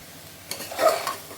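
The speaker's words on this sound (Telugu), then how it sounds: "కొద్దిసేపు వేపుకుందాము మసాలా అంతా ఈ పొటాటోకి బాగా పడుతుంది" Potatoes frying with masala and salt in a pan: a brief, soft sizzle and a couple of quiet stirring scrapes, faint and close, with no talking.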